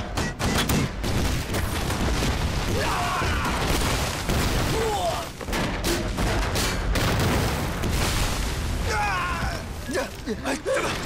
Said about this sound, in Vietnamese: Lệnh cho pháo binh dốc sức bắn về phía trận địa của địch.